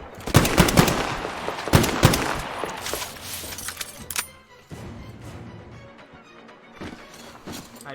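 Rapid automatic gunfire from the video game Metro Exodus rattles in dense close bursts, then thins into scattered single shots and quieter rustles.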